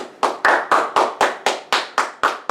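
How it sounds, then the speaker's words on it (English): Claps at a Linux users group meeting, about ten sharp, evenly spaced hand claps in a steady rhythm, each one crisp and close with a short decay and no talk over them. "Just clap for 2 minutes, that way everyone else can join us."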